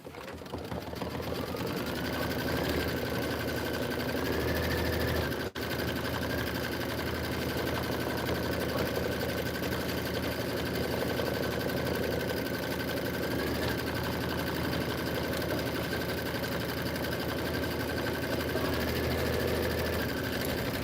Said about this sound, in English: Okay, go ahead and do your quilting stitch.